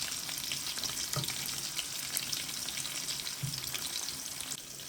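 Onions dropped into very hot oil sizzle and crackle steadily in a pan, a close, bright frying hiss with a few soft stirring knocks and no talking.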